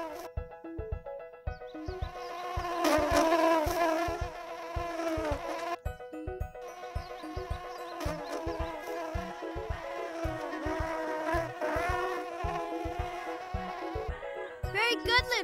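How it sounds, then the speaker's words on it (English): A cartoon bee buzzes as it flies, a whiny wavering drone over bouncy plucked music with a steady beat. "The bee is coming for its pollen."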